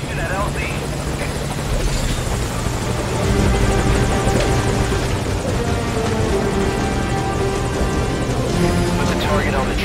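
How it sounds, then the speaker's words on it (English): Helicopter arriving for a pickup in Metal Gear Solid Ground Zeroes, a loud, steady rotor thrum and whine that swells slightly as it comes in, with voices talking over it. "Roger that chopper request. It's headed your way now."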